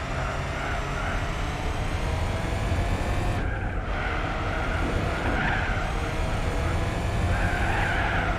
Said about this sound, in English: We're drifting wide, we're burning the tyres, and all is good.